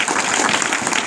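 An audience claps in dense, steady applause at a public lecture on Shivaji's life, a loud wash of many hands filling the hall.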